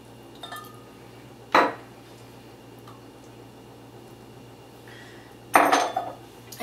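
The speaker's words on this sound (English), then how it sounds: "I'm gonna put in 1/4 cup of my soy sauce. And 1/8 cup of sesame oil." Soy sauce and sesame oil are measured out in a kitchen for a dipping sauce, with two clear clinks of a measuring cup against a dish a few seconds apart over a steady low hum, and no talking.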